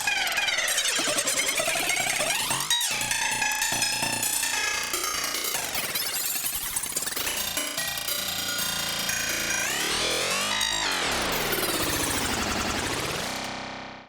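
Knife sound samples run through the Tritium Max for Live device come out as a dense, loud, psychedelic wash of metallic, echoing and sweeping tones that stays constant, then fades out at the end.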